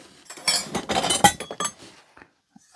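Vintage metal egg rings clink and rattle together as they are unpacked, with a burst of close, bright metallic jangling and clattering over about two seconds, then a few faint taps.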